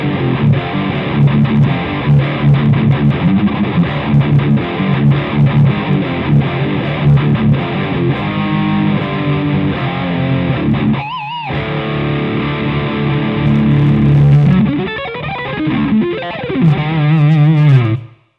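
Heavy electric guitar in drop D tuning, distorted through a Rothwell Switchblade pedal, chugs through low palm-muted riffs with ringing power chords, a short pause, then more crunching riffing ending on a sustained chord.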